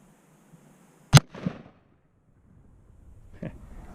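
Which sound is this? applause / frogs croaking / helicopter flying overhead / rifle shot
rifle shot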